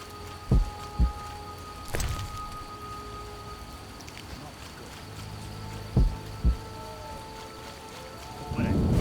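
Rain patters steadily in The Witcher game world while sharp thunder cracks strike several times, each a loud sudden burst over the continuous rainfall, with a rumble building at the end.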